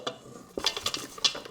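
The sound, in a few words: whisking flour and milk in a bowl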